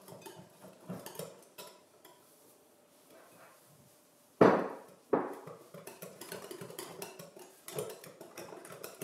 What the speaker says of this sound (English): Gradually add cornmeal so that you can give it a good mix.